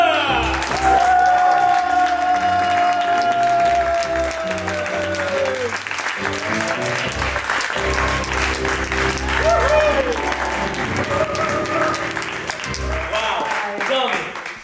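Improv comedy show audience applauding and cheering loudly for a performer introduced as Tommy Thunder, a dense wash of clapping over music with voices talking through it.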